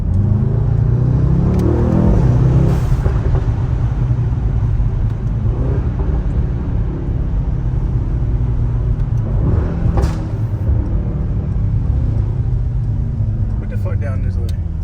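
A Mercedes-AMG GT63s is driven through city streets, its engine a steady low rumble with a swell of acceleration, heard from inside the car.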